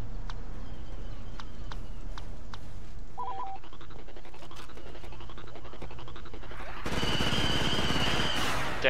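Blaster fire in Star Wars Battlefront 2 on the Utapau Assault map: rapid repeated shots crackle through a busy mix of game effects, then a dense, louder burst of weapon noise fills the last couple of seconds.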